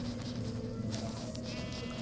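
Sheep in the Minecraft video game bleat softly over a steady, faint background hum, a couple of short wavering calls within two seconds.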